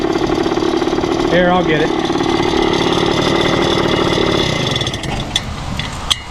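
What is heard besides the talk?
1974 Indian ME 100 motorcycle engine idling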